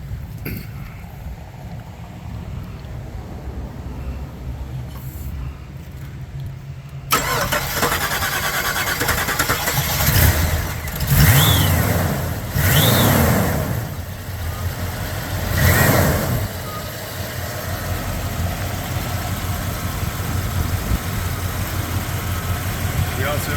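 A 1991 Jeep Grand Wagoneer Final Edition engine is started after a quiet stretch, catching with a loud crank and rev bursts, then settling into a steady close idle.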